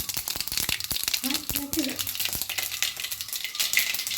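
Mustard seeds crackle and pop sharply in hot oil, irregular bursts over a sizzling hiss, with faint voices in the background.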